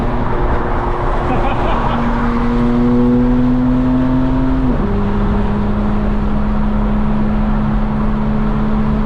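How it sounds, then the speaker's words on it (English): A Ford Mustang revs and passes nearby. Its loud engine note holds steady, then drops in pitch as it goes by, over constant road and traffic noise. "We got a sick Mustang coming up."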